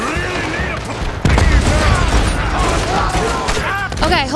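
Dense, continuous gunfire from a Red Dead Redemption II firefight, a loud barrage of rapid shots layered with game effects and excited voices talking over it.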